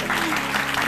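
A television studio audience applauds, giving a brief burst of dense clapping that stays steady and close for under a second.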